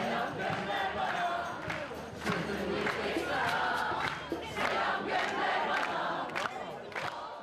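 A concert crowd at a show at Bodrum Castle chants and cheers in rhythmic waves, loud and dense, urging the singer to take off his hat.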